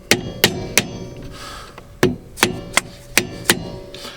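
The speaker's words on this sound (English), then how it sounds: "we just need to get the screwdriver in. A couple of light taps." A screwdriver wedged in the groove of a caravan brake drum cap is tapped repeatedly, giving sharp, close metallic knocks in two quick clusters with a short pause between them.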